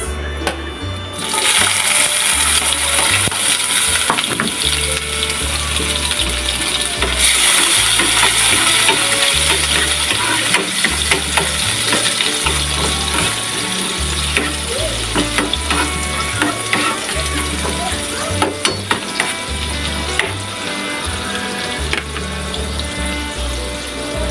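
Onion sautés in hot oil for a stir fry of Baguio beans with pork, giving a loud, continuous sizzle with scattered pops and crackles that carries on steadily without pause.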